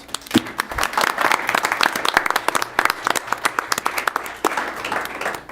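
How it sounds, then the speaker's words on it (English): Applause at a school board meeting, a room of people clapping steadily, with a few sharper individual claps standing out over a constant crowd patter that lasts throughout. "So let's give these four right here a nice round of applause"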